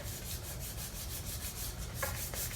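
Sandpaper rubbed by hand over painted wood, a steady close scratching with rapid back-and-forth strokes running continuously and alone.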